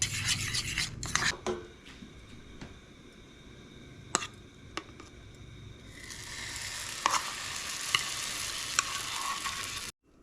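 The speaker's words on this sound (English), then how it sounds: "we're going to take this over to the frying pan" A steady sizzle of food frying in a pan, rising louder partway through, with scraping and clinks of utensils.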